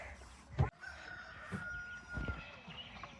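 Chickens on a farm with a mother hen and six young chicks give a few soft clucks and calls, quiet and somewhat distant, with scattered faint noises between them.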